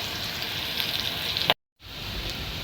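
Onions fry in a pan, giving a steady close sizzle that breaks off in a brief silent gap and then resumes.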